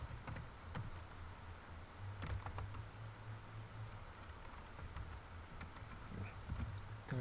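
Quiet, rapid keystrokes on a computer keyboard as a reference title is typed into MS Word, clicking in uneven bursts with no talk.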